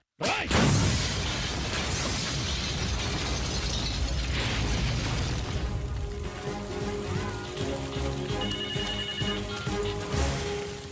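A bomb blasts in a Telugu movie scene, opening with a sudden loud boom that rolls into a long rumbling roar of debris and crackling, fading slightly while staying dense.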